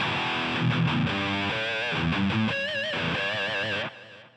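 An electric guitar through a Boss GT-8 multi-effects distortion plays a short phrase of gritty notes and bends, ending with a held, wavering note that cuts off.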